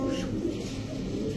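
Highflyer pigeon cooing close by in a low, steady, continuous coo.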